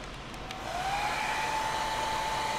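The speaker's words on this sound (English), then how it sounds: "Turn on your heat gun and be sure to go all the way around the shrink tube" A heat gun blows steadily while shrinking heat-shrink tubing over a crimp sleeve on a Toyota wiring repair, a close, even airy roar that swells in after a moment and holds with a faint whine.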